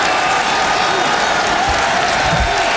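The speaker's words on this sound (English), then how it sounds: "And a mocking standing ovation by the Georgetown crowd." A college basketball arena crowd at Georgetown rises in a mocking standing ovation, a loud, continuous roar of clapping and crowd noise filling the whole stretch.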